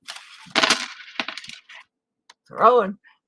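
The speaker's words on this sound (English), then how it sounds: "I'm knocking money and stuff everywhere" Coins and loose items get knocked over, giving a loud burst of metallic clattering followed by scattered clinks and small taps, then a short spoken sound near the end.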